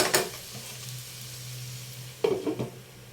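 Ground pork browning in a pan, with a steady low sizzle broken by sharp pops and the scrape of a stirring spatula near the start and again at the end.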